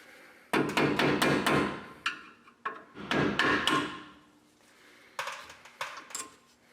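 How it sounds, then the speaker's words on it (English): A small rubber mallet taps the brake pad slides off the rear brakes of a Ford F-series truck, bursts of quick close knocks in rapid groups with short pauses between, plus a few lighter metallic taps. "What I'm going to be using is a small rubber mallet and a standard screwdriver."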